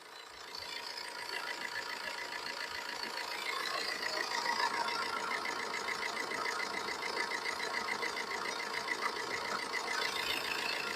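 A Tata Manza car engine idles steadily with a faint rhythmic ticking, moderately loud and close, with no voices over it.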